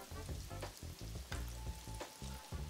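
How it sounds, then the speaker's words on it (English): Chicken wings deep fry in hot oil in a fry basket, giving a steady, moderately faint crackling sizzle with small pops throughout and no talking. "I put a few wings in there, put them in a fry basket."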